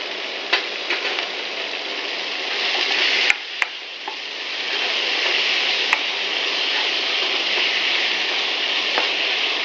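Tomatoes cooking on medium heat in a pan for a cauliflower and green pea curry give a steady, even sizzle with a few faint clicks and scrapes, and no voices.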